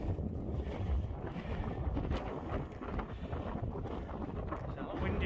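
Strong wind buffets the microphone on a Lake District fell summit, a loud continuous roaring rumble with gusty surges throughout.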